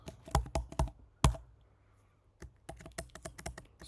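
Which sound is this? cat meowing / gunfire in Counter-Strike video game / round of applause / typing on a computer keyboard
typing on a computer keyboard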